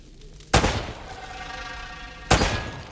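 Two loud, close gunshots fired several seconds apart in Uncharted: Drake's Fortune, each a sharp crack followed by a short fading echo over low background hum.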